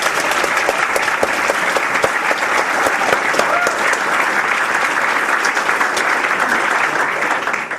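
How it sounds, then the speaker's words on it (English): Enthusiastic audience applause for a speaker at a BettaKultcha event in Leeds, a loud, dense and sustained wash of clapping from a crowd, with a few sharper individual claps standing out early on. "So please give a big round of applause for Lydia Slack"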